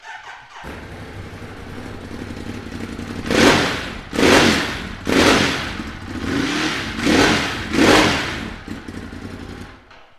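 A 2016 Ducati Monster 821 motorcycle engine starts up and settles into a rough idle, then is revved hard five times in a steady rhythm, each loud rise falling back to idle, close up with no one talking.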